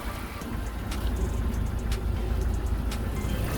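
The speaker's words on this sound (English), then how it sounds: "Let's rev her up a little bit." A 1994 Jeep Wrangler YJ engine runs nearby with a low, rough drone, rising slightly in level as it is revved a little, with no speech over it.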